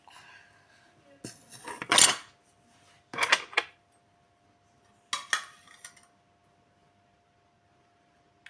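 A utensil scrapes and clinks against a bowl while a craft mixture is stirred, in three short bursts separated by quiet pauses, close and fairly clear.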